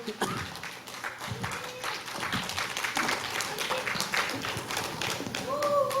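Audience applause at a Korean silver-generation youth concert stage show, dense continuous clapping throughout, fairly close, with a host's voice and other talk mixed in over it.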